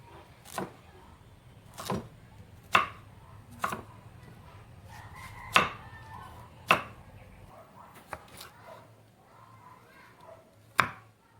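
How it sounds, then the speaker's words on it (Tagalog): A knife chops carrots into cubes on a board: about ten crisp, separate chops at a slow, uneven pace, close and fairly quiet, with no voices. "i-slice lang po natin ng carrots. Ipa-cubes lang po natin."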